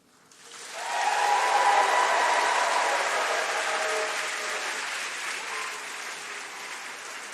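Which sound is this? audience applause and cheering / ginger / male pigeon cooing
audience applause and cheering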